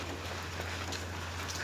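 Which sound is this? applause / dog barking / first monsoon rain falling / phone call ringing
first monsoon rain falling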